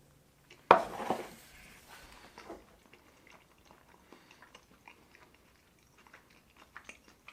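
Someone bites into freeze-dried rice and beans: a sharp close crunch or clatter at first, then quiet, soft chewing sounds scattered through the rest.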